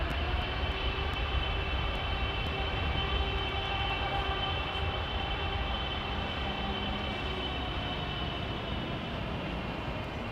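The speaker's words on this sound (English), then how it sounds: "Wind up those big GE90s, man." Twin GE90 jet engines on an airliner at Heathrow spool up with a steady, loud roar and sustained whining tones, heard close and unbroken throughout.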